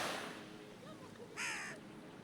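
A crow caws once, clear against a steady hiss of outdoor background noise at a beach, with faint murmuring before it.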